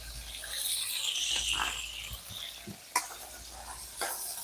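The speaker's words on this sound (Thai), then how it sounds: "ไปผัดชิ้นเนื้อก่อน" Sliced beef stir-fried in a hot pan with a steady sizzle and scraping stirs, plus a few sharp clanks of the utensil against the pan.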